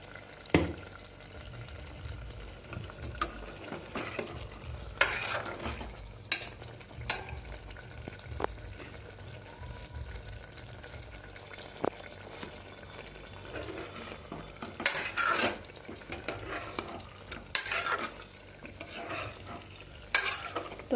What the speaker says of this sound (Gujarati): તો આપણે ચટણીનો વઘાર પાકી જાય એટલે વાર આપણે ધીમે ધીમે ફેરવતું રહેવાનું છે